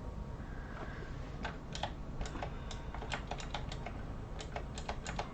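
Keys tapped one after another on a computer keyboard, arrow keys and then Enter, in a quick irregular run of crisp clicks over a steady broadband hiss.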